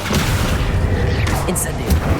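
Incendio fire spell cast in Hogwarts Legacy, a dense roaring burst of flame and magic with low booming rumble, steady and loud, layered over continuous game ambience with a faint voice underneath.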